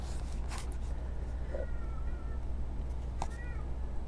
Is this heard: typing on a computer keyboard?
no